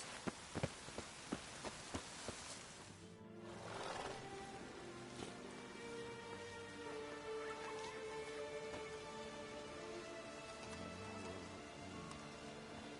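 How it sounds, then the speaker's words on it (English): Rain falls in The Witcher 3, a soft even patter after a few sharp knocks at the start, with low rumbling and faint tonal ambience beneath. "I like rain."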